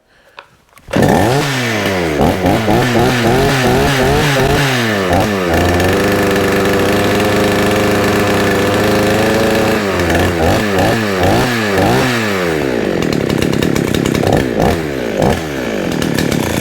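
A Baumr-Ag GCS6200 chainsaw engine fires up and runs loud and close, revving repeatedly in sharp rising and falling bursts with a steadier held stretch in the middle.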